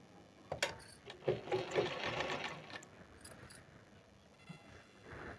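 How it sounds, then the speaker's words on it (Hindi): Sewing machine stitching blouse fabric with its lining, a quick burst of rapid mechanical chattering at moderate volume after a brief pause, followed by quieter handling clicks and rustles of cloth. "आधा इंच लेकर सिलाई कर लेनी है"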